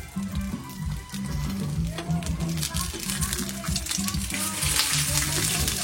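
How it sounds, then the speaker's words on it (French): Eggs fry in a pan at a street-food stall making bol renversé, a steady close sizzle running throughout while someone talks over it. "quand on faire frire les œufs"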